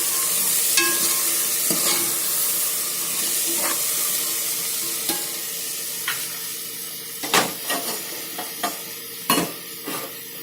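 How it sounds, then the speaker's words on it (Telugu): Potato, carrot and other vegetables sizzle in hot oil, a continuous hissing fry broken by several stirring scrapes and utensil taps, close and fairly loud. "ఇంకా క్యారెట్ కొద్దిసేపు నూనెలో మనం ఇవన్నీ వేగనియాలి."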